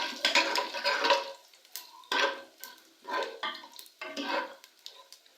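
Whole cloves, black pepper, black cardamom and bay leaf drop into hot ghee for beef bhuna gosht, giving a few separate bursts of close crackling sizzle with metal utensil clinks between them.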